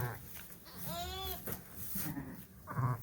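Newborn lambs bleat in a cool lambing barn, a couple of close, wavering cries over low shuffling and faint background noise.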